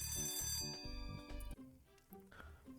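A school bell rings in the Bingus My Beloved visual game, a short electronic chiming pattern of repeated tones that fades into quieter sounds near the end.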